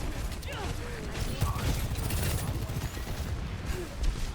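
Rapid turret fire from Torbjörn's turret in the video game Overwatch, a dense continuous mechanical rattle of gunfire with clicking and ratcheting, layered with game effects and faint voice chatter.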